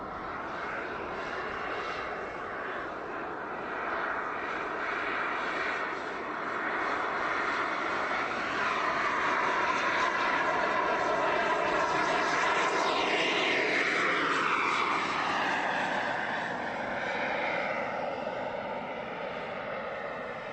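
An Avro Vulcan's jet engines run at full throttle during a test flight at RAF Elvington, a loud, sustained roar with a rising whine and shifting tones as the aircraft passes.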